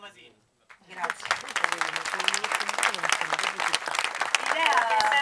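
Audience applause at a Rome fiction festival presentation: after a brief quiet moment, a room of clapping starts and builds into sustained applause, with people talking over it.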